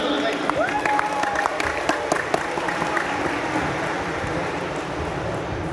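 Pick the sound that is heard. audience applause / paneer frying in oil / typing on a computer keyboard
audience applause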